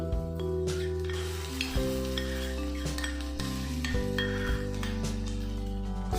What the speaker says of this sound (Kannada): ಶುಂಠಿ ಬೆಳ್ಳುಳ್ಳಿ ಪೇಸ್ಟ್ ಹಾಕ್ಕೊಂಡು ಚೆನ್ನಾಗಿ ಫ್ರೈ ಮಾಡ್ಕೋಬೇಕು